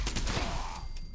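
Rapid burst of rifle gunshots from the Elder's Mark, an unsilenced weapon in the Fallout 76 video game, loud, close and sharp, over in about a second with no talk.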